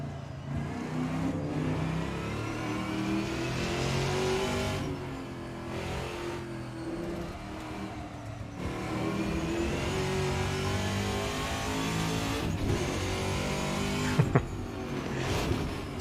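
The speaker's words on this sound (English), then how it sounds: "I do like the depth of sound on the gear changes there" Race car engine in Assetto Corsa, a classic-versus-modern Trans Am battle, revving hard and close with repeated upshifts and downshifts that dip and rise in pitch across the run, loud and continuous with no talk.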